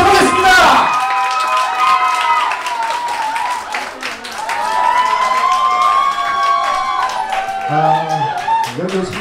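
A crowd at a salsa club's third-anniversary party in Ansan claps and cheers loudly as a leader is welcomed to the stage. The applause is dense and sustained, with whoops and shouted voices riding over it.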